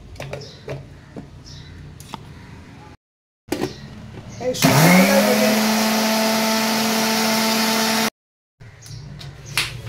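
A mixer grinder jar whirs loudly as poppy seeds are ground into paste, starting up with a rising whine and running steadily for several seconds, bracketed by clatter and brief handling noises.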